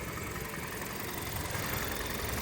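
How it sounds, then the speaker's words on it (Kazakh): A Korean taxi's engine idles in a steady, low, continuous rumble with slight vibration, fairly close and unbroken, with no talk over it. "Мынакей моторда жакшы эле иштеп турат"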